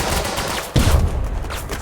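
A loud volley of rifle fire in the infantry combat game Burden of Command, a sudden burst of crackling shots with a short rumbling tail.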